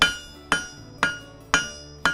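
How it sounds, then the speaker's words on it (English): A hammer striking steel on an anvil during blacksmith forging, five evenly spaced ringing metallic blows about half a second apart, each with a bright lingering ring, close and clear with no talk. "each time I hit the steel, it's going to spread in all four directions"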